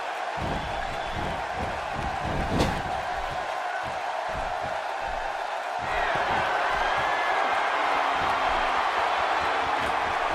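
Arena crowd in the WWE 2K16 wrestling video game roaring steadily throughout, a continuous wash of cheering that swells louder about halfway, with a sharp slam-like impact early on and game commentary talking over it.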